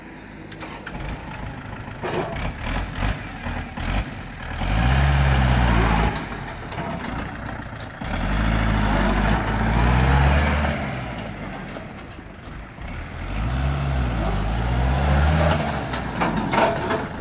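A Kubota L4708 47-horsepower tractor's diesel engine runs nearby, rising in repeated surges of revving between quieter stretches of steady rumbling.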